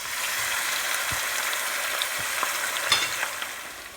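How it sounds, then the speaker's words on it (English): Steady sizzling of about two pounds of chicken frying on medium-high heat in a hot pan for korma, with occasional stirring clinks and pops; close and continuous, no talking. "frying the chicken on medium high flame"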